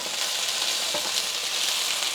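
Potatoes sizzle steadily in a frying pan, a dense, even crackle of frying that holds at a constant close level throughout, with no voices.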